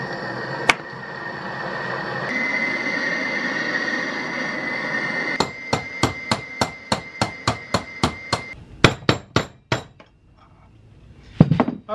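Hammer striking a heated metal shield handle to bend it, a steady run of about a dozen sharp, ringing blows, closely spaced and near, after a stretch of roaring torch-like hiss, then a few more scattered hits.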